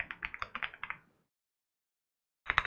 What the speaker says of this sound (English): my typing is really bad today